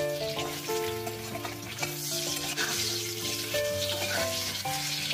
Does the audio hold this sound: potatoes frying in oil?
yes